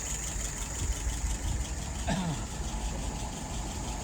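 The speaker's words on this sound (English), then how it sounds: "Currently idling at about 640." A car engine idles at about 640 rpm with a low, steady rumble throughout, close by, with a brief faint squeak partway through.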